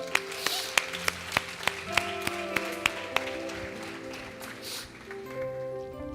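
A church congregation claps steadily and rhythmically, about a dozen sharp claps, keeping time over sustained musical tones, then fades out, leaving the music playing alone.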